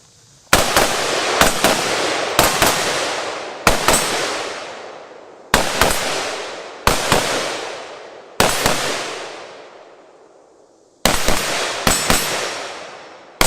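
Gunshots ring out during a slow move-and-shoot tactical drill: about a dozen loud, sharp shots, some in quick pairs and others spaced apart, each trailing off in an echoing decay, with no talk.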